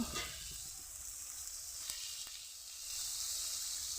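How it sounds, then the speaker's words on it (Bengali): Small shrimp coated in salt and turmeric fry in a pan with a steady, close sizzle that swells a little louder toward the end, with no voices. "চিংড়ি মাছটা নুন হলুদে মাখানো ঢেলে দেব। ঢেলে দিলাম। আস্তে আস্তে করে ভেজে নেব।"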